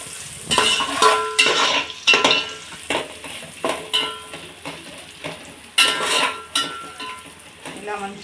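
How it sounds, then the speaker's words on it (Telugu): Ginger paste fries in oil for coconut rice while a metal spoon scrapes and clinks against the pan in repeated stirring strokes, over a soft sizzle heard close by. "ఇలా మంచిగా ఆయిల్ బయటకు వచ్చే వరకు వేపుకోవాలి"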